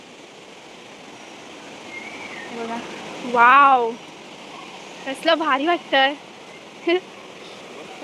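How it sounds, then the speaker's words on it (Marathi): A monsoon waterfall near Dhutpapeshwar temple in the Konkan pours with a steady, broad rushing roar, while excited voices talk over it. "तो बघा इकडे पण धबधबा आहे"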